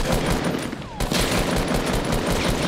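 Sniper rifle shot in the Fortnite video game, a sharp report around one second in, amid dense continuous gunfire, game effects and busy background noise throughout.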